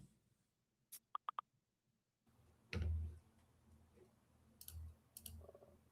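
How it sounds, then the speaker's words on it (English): Computer mouse clicks in a quiet room, a quick burst of three or four sharp clicks followed by a few softer taps and low bumps, faint and close. "There, I hear you clicking."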